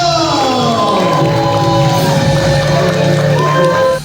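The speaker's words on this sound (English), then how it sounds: "Big applause per il nostro captain, Giovanni Cosini e Nettuno!" On a cruise ship's equator-crossing ceremony, a crowd of crew and passengers cheers, whoops and shouts for the captain and a costumed Neptune, loud and continuous with sustained voices rising and falling.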